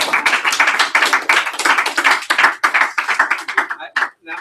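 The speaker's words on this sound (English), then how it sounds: "let's give Luke a round of applause" Applause for Luke from a conference audience, many hands clapping in dense bursts that carry on loudly for several seconds, then thin out into a few scattered claps near the end.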